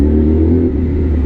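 Yamaha R6 motorcycle engine idling smoothly through its muffler on a cool night, a steady, close, continuous low rumble with no voices.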